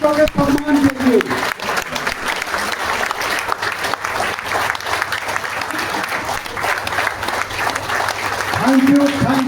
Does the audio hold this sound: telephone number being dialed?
no